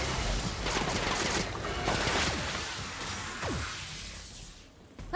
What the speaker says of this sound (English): Who else is shooting us?